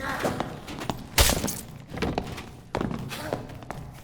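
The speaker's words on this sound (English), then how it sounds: "Shield slam." Shield slam in the video game Dark and Darker: one heavy thunk lands hard and up close, surrounded by lighter thuds and footsteps from the fight.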